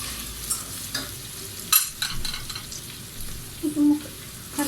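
Butter and potatoes fry in a pan with a steady sizzle, broken by scraping stirs and a sharp clatter partway through. No one speaks.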